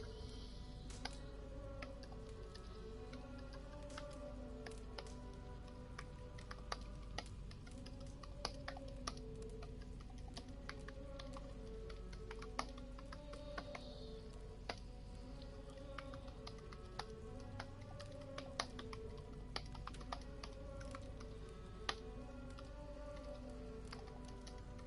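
Continuous typing on a computer keyboard, heard as a long run of soft clicks with occasional sharper keystrokes, during a live stream of Assassin's Creed Valhalla. No one speaks.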